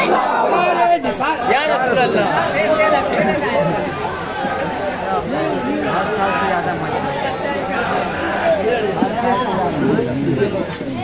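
A crowd at a jalsa religious gathering roars back in unison to a takbir call, a loud, sustained swell of many voices chanting and shouting together, close and dense throughout.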